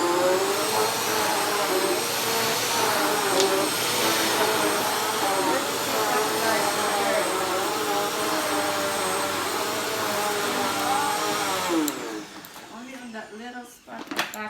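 Bissell Powerlifter Swivel Pet vacuum cleaner running on an area rug, a steady loud whine with a wavering motor tone for about twelve seconds before it shuts down and spins to a stop, followed by handling noise.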